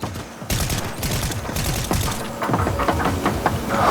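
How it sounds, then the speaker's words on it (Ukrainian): Gunfire in the video game Fortnite comes as rapid, loud bursts of automatic shots in close succession, a sustained rattling fusillade with brief pauses between volleys. "Да, по мені стріляють."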